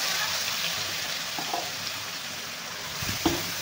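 Red chili and masala fry in hot oil, giving a soft, steady sizzle with a few faint stirring knocks near the end.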